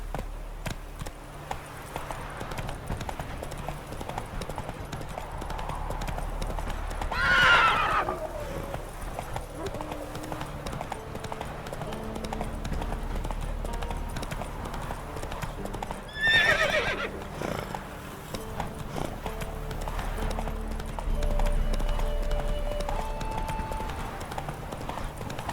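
Roach, a horse in the video game The Witcher 3, galloping with a steady clip-clop of hooves and two loud whinnies partway through, over a game soundscape.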